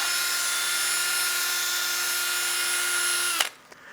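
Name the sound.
drill with 600 grit sanding disc on wooden bowl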